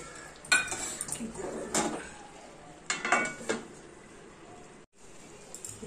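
A lid is set over a pot of simmering lote fish chorchori, with a few clear metallic clanks and clinks over faint background cooking noise.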